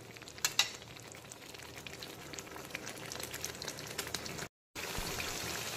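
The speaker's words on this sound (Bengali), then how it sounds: "বারবার করে নাড়াচাড়া করে দিতে হবে যাতে মশলাটা কড়াইতে ধরে না যায় বা পুড়ে না যায়।" Masala with fried potatoes sizzles in a kadai for katla fish kalia, a soft continuous crackle with a few sharper scrapes of stirring early on and a brief dropout, faint and steady.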